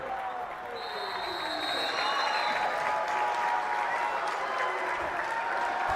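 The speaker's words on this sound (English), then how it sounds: "As the Highland crowd goes wild." A home crowd at a Highland boys basketball game against Viewmont erupts in loud, sustained applause and cheering that swells and holds, with a commentator talking over it.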